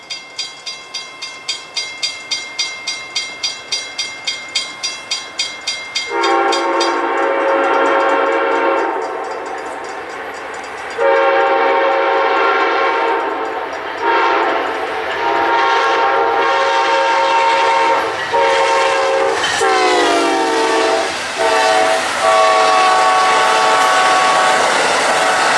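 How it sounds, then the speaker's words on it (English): Rhythmic wheel clicks approach, then a loud train horn blares repeatedly as Amtrak's Silver Star passenger train roars past close by with a heavy, steady rumble. "here comes another train, Amtrak 91"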